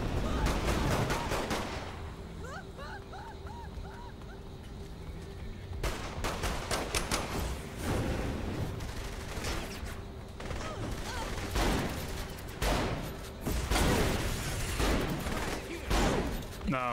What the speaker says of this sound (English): Alright, shoot his gas tank.